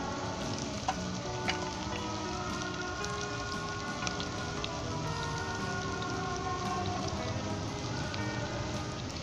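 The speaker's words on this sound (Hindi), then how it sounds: "सबसे पहले इसमें प्याज डाल दें। और प्याज को आप सुनहरी कर लें।" Onions fry in a pan until golden for an easy chicken gravy, giving a steady, dense crackling sizzle with faint occasional clicks, continuous and fairly quiet, with no talking.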